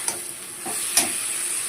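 Vegetables and split green chillies stir-fry in a hot pan, a bright sizzle under a few quick scrapes and stirs across a short moment, with no talk.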